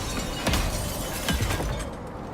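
Glass shattering in the video game Icarus, set in a stormy area near a trader's hut: a couple of short, bright crashing bursts over a steady loud wash of game ambience and wind.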